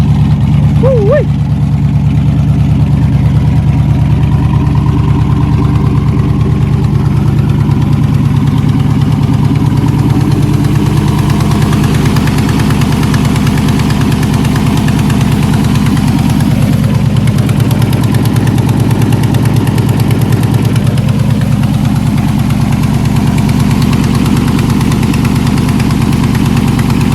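Junkyard LS V8 with an eBay cam idling in an S10 drag truck, a loud, steady, lopey rumble held close for nearly half a minute with no revving.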